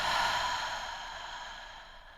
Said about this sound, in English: And then open your mouth wide as you exhale.